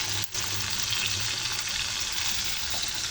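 Steady sizzling and bubbling from a pan of white chicken adobo simmering on low heat on the stove, a constant crackly hiss with no voices.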